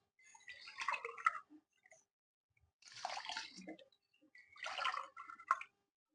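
Water poured into a cooking pot with ghee for mint rice, three separate splashing bursts near the microphone, each lasting about a second, with quiet gaps between.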